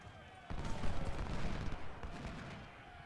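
Musket volley fire in Ultimate General: Civil War at the Battle of Fredericksburg, a sudden dense crackle of many shots that rolls on as a sustained rumble, with a voice over the top.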